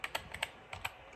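Quick taps on a computer keyboard as a command is typed, about seven light clicks in a short uneven run, close and fairly quiet.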